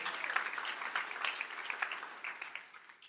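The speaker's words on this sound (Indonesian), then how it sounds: "Sorak-sorak yang paling meriah" A church congregation cheers and applauds together, a dense, steady wash of clapping and voices that holds at a moderate level throughout without a break.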